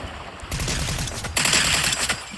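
Rapid bursts of automatic gunfire in a shooter video game ring out from behind the player, several quick volleys close together at moderate loudness.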